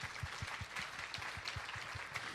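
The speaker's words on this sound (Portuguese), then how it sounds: "Aplaude o Senhor." Scattered applause from a crowd at a church diocesan congress, steady and moderately loud, with a low rhythmic thumping beneath it.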